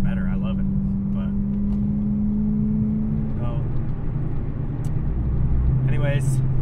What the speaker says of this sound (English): exhaust isn't crazy loud or anything, but I'm hoping this microphone can pick it up okay